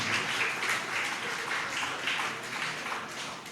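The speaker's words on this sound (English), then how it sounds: "Please, a round of applause for Big Trending Media." An audience at a Chancellor's Day celebration claps for a media sponsor, a fairly quiet, steady patter of applause with gentle swells that carries on without a pause.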